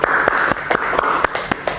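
Sharp claps land in a steady rhythm of about four per second in a classroom during a teaching performance exam, with a faint murmur underneath.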